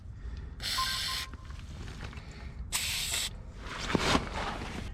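Aerosol penetrating spray hissing onto the starter bolts under a 2016 Chevy Silverado 2500HD, two sharp bursts about half a second each, close and fairly loud, followed by fainter spraying and light handling noise.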